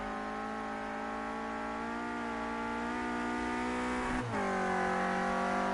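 A Renault Clio Cup race car engine drones steadily at high revs at Oulton Park, its pitch rising gradually, with a brief dip and gear-change blip near the end before it carries on loud and close with no talk.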